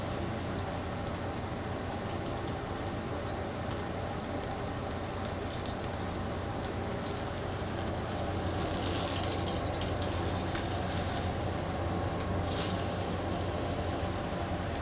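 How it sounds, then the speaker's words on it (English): A beef tenderloin fillet for Beef Wellington searing in a pan of hot oil, giving a loud, continuous crackling sizzle that grows harsher partway through. "You gently set your filet in there facing away from you so it doesn't splash"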